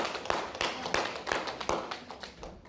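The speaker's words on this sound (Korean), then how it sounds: "박수!" A small audience claps in a lecture hall, a sparse run of separate handclaps at a quick, slightly uneven rhythm that fades toward the end, fairly faint.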